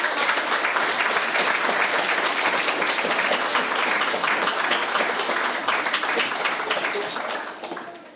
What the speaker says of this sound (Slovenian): En aplavz za organizatorje.